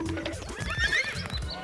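A horse neighs loudly and shakily at close range, a single whinny heard over a toy horse scene in a Tangled story, with no talking.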